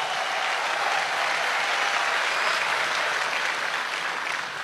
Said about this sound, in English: So please, Kenyans, applaud your president,